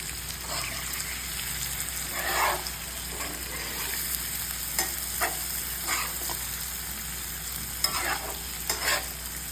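Aloo bhindi, potatoes and okra, stirred in a sizzling pan, with a steady frying hiss and repeated scraping strokes of a spoon at an uneven pace, close and fairly soft.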